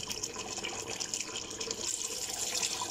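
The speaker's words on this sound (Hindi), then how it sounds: "अब हम इसमें पानी ऐड करेंगे" Water pours steadily into a pot of aloo gosht curry with potatoes, a continuous close splashing hiss lasting a few seconds, fairly soft and without talk.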